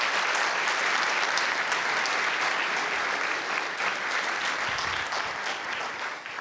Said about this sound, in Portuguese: Vem aqui, uma salva de palmas, por favor, para o Isaac.